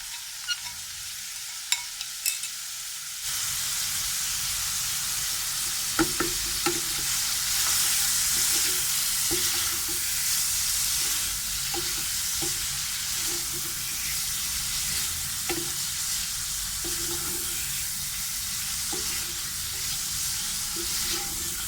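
A chicken and egg dish sizzles loudly in a pan as spices are mixed in, a steady close frying hiss punctuated by repeated scraping stir strokes.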